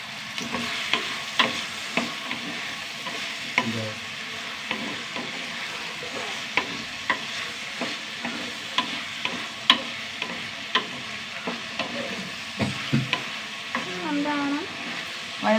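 Tomatoes and curry leaves sauté in a two-toned earthen pan, a continuous close sizzle broken by frequent sharp scrapes and taps of a spoon stirring.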